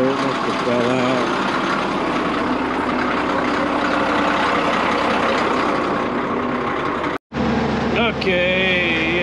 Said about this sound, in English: Matt's taking it with the backhoe